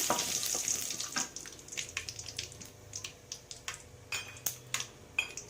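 Mustard seeds and curry leaves spluttering in hot oil for a brinjal curry, sharp irregular pops and crackles over a soft steady sizzle, close and fairly quiet, with occasional clinks of a utensil.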